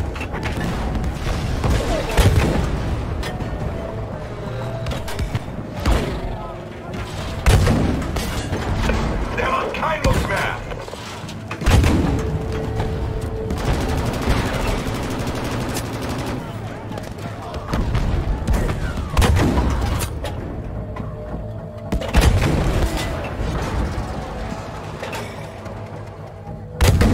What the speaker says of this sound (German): Artillerie!